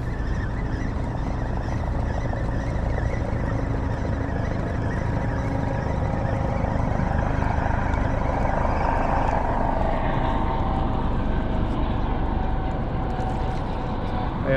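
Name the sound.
helicopter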